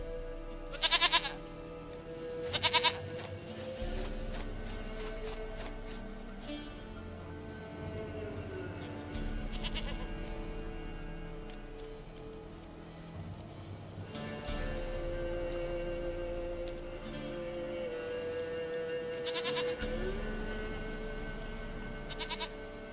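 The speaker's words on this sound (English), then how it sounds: "Goat of mine, dearest," A goat in The Witcher 3 bleats in a few short loud bursts near the start, then again faintly later, over steady game music and ambience.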